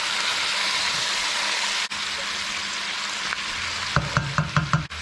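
Oxtail, bacon and liver soup being stirred in a pot over a steady sizzling hiss, with a run of close scraping, knocking strokes near the end.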